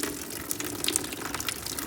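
Fluid drains from the engine of a 1966 Ford Country Sedan wagon during cylinder head removal, a steady, close trickling and splashing stream that runs throughout without talking.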